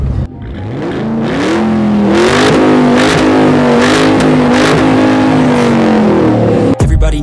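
A Ford Mustang with a 5.0 V8 revs up hard, its engine note climbing and holding a loud, steady growl for several seconds before cutting off abruptly near the end.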